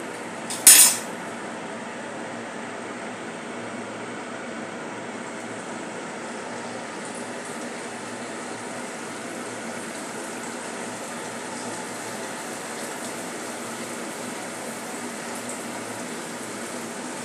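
A second batch of mini samosas fries in hot oil with a continuous, soft bubbling sizzle, steady and close, opened by a brief metallic clink.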